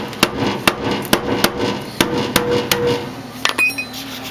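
Hammer blows on the rear sheet metal of a 1968 AMX during body repair, a dozen or so sharp metallic strikes in uneven rhythm, loud and close, with a short ringing tap cluster near the end.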